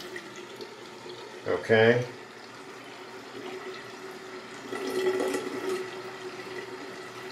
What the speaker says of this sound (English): There's water coming out of the drinking water spout, and there's water coming out of the other spout here.